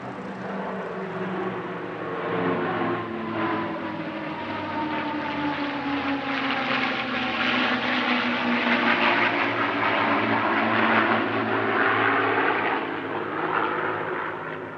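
A CA-17 Mustang Mark XX, an Australian-built P-51 warbird, flies past at an airshow, its piston engine droning loudly with a rising and falling tone as it passes overhead.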